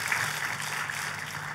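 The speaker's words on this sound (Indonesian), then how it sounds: "Kita kasih tepuk tangannya lebih meriah lagi buat Tuhan kita." A church congregation claps in sustained, dense applause during a worship service, a steady wash of hand claps at moderate distance with no voices on top.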